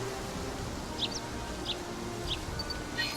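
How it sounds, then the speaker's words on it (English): Game birds in Pokemon Snap chirp in three short, bright calls spaced about a second apart, moderately faint over a steady ambient background. "Them birds."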